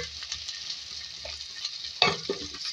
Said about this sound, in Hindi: उसमें प्याज ऐड करेंगे 2 मीडियम साइज के, उसको फ्राई करेंगे।